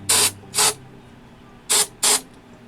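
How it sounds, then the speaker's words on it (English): A can of cleaner sprays into a desktop speaker in four short, loud hissing bursts, two close together, a pause, then two more. "And just start spraying a liberal amount."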